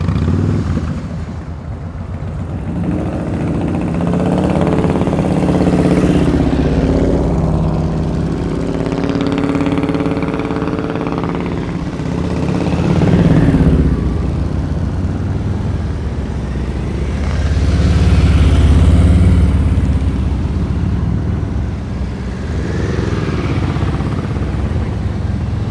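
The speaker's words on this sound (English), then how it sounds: "Start that motorcycle, Camilo." A motorcycle engine idles steadily and swells into a few revs, loud and close, at an advanced slow-speed riding practice session in Knoxville, Tennessee, with no talk over the engine.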